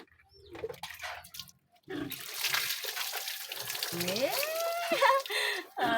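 Water runs and splashes while a Japanese Spitz dog is bathed and water is poured into its soap, a bright rushing flow that rises and shifts pitch, with a soft voice and quiet bumps at the start.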